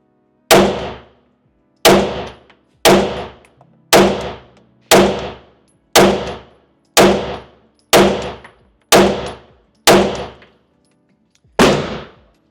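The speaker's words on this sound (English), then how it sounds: "let's go competitor, bottom right, with 124 grain" Eleven sharp handgun shots from an M&P 2.0 Competitor loaded with 124 grain rounds, fired at a steady pace about one per second with a longer pause before the last, each crack ringing off steel targets.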